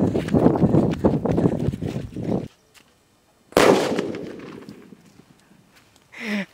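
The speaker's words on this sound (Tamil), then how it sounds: "இது வெடிக்கும் போது வந்து கலராக ஒரு பவுடர் போகும்" A naattu vedi colour firecracker bursting outdoors, one sharp loud bang followed by a decaying hiss as powder scatters, preceded by a busy patter of crackling and rustling, with a brief voice near the end.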